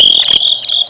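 Crickets chirp in a dense, steady high trill, loud and close, with no voices over it.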